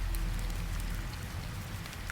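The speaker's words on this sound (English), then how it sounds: "Then came the rain." Steady rain falls on wet concrete, a dense continuous patter with scattered louder drops, close and even throughout.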